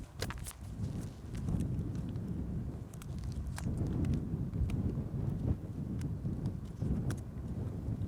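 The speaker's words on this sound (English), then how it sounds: "Sorry, it's very windy up here." Low, rumbling gusts buffet the microphone at an outdoor commencement ceremony, with scattered sharp knocks and taps mixed into the blustery noise.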